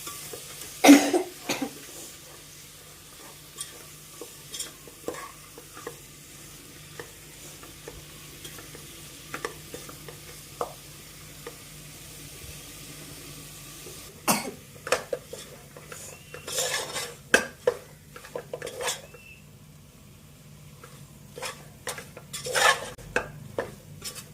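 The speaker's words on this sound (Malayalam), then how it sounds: "നന്നായിട്ട് ഇനി നമുക്ക് മിക്സ് ആക്കി കൊടുക്കാം" Beef is stirred in a pan with a metal spoon, giving sparse clinks and scrapes against the pan over a faint sizzle, with bursts of busier stirring and a cough partway through.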